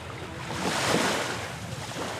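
Waves washing onto a beach, a soft continuous surf swell that rises and falls, with some wind noise.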